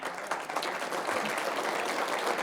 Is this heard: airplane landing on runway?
no